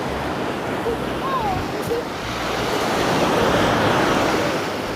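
Ocean waves wash onto a beach in a steady, loud roar of surf that swells slightly toward the end, with wind buffeting the microphone and faint voices in the background.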